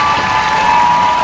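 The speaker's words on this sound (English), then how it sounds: "a big round of applause you can hear here in Nashville" A stadium crowd in Nashville applauds after a U.S. women's soccer win at the SheBelieves Cup against France, giving a steady, dense wash of clapping with no break.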